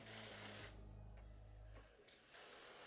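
An aerosol spray hisses over a honey blonde wig with ombre highlights in one sustained, fairly close burst lasting about two seconds.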